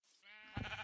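A Minecraft sheep bleats once, a short nasal wavering baa heard close and fairly soft, alone.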